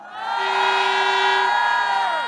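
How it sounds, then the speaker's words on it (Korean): A large crowd at a political rally in Korea roars with sustained cheering and shouting, loud and steady for a couple of seconds, with voices blending into a broad wall of sound and a few tonal whoops above it. "응원의 박수 부탁합니다."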